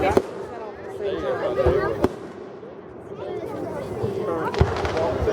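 Fireworks bursting at a 2013 display in Lewisville, with sharp booms near the start, around two seconds and near 4.6 seconds over a steady crowd murmur and nearby voices talking.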